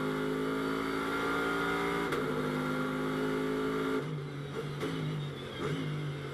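A GT race car engine at Las Vegas Motor Speedway roars loudly from on board as it accelerates through the corners, a sustained buzzing drone with brief gear-shift breaks and slight pitch changes, with no voices.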